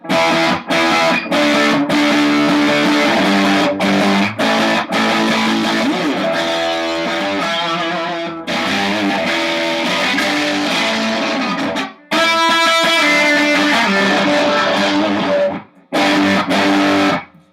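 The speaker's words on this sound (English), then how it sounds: "It's like an acoustic on a distortion pedal." A hollow-body guitar plays loudly through a distortion pedal, strumming chords and short riffs with a few brief pauses. No voices are heard.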